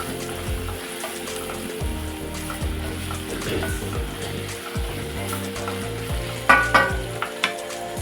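Tomatoes and broad beans (chikkudukaya) frying in a pan for curry, a continuous close sizzle with occasional stirring scrapes and a few sharp clinks near the end.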